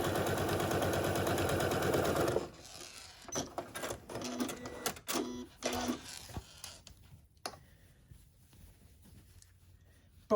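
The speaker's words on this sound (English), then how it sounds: "I'm going to stitch using about a 3/8 inch seam allowance right down" A sewing machine runs a continuous fast whir for about two seconds, stitching a fabric seam for a zipper scrunchie, followed by quiet clicks and fabric handling.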